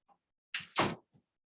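A door is pushed shut with a short double thud, close by and fairly loud, leaving quiet on either side.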